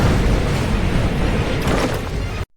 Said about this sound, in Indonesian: Akibat ledakan sihir tadi